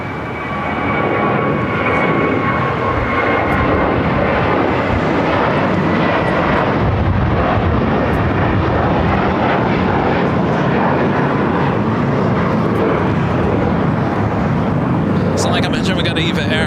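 Jet airliners at Los Angeles International Airport, among them an Eva Air Boeing 777-300ER pushed back from the Tom Bradley terminal, give off a loud, steady engine roar that fills the whole stretch, with talk heard under it.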